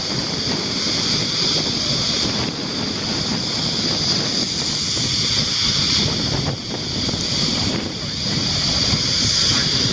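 Atlantic Ocean surf at the beach edge, a steady loud roar of waves mixed with heavy wind buffeting the microphone, with gentle swells in intensity and no voices.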